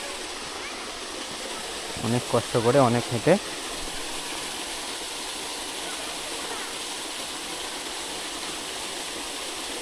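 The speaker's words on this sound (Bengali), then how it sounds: "এই ঝর্ণাটার কাছে আমরা এসে গেছি" A small waterfall splashes with a steady, even rush that runs the whole way, while a voice talks briefly near the start.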